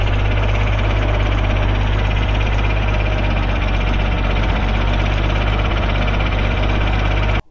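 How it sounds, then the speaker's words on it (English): Antique John Deere 4020 tractor engine running with its PTO engaged, a loud close steady diesel chug with rapid knocking pulses throughout, cutting off abruptly at the end. "as you can tell, tractor's running, but if you can see it, so is the PTO."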